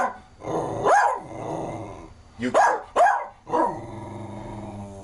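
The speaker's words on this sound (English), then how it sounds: "He's barking because he wants this thing right here." A dog barks and growls in a few loud, close bursts with short gaps between them, with low rumbling growls in between.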